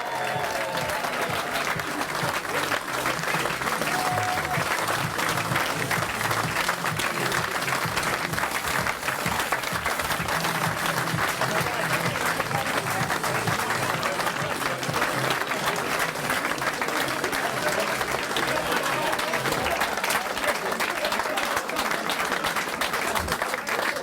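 Loud, sustained applause from an audience at a football team reunion, continuous dense clapping filling the whole stretch with faint crowd noise underneath.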